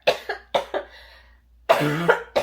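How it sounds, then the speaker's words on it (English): A person coughs in a burst of sharp, close hacks, with one voiced, throaty cough near the end, right after laughing. "made me have to cough"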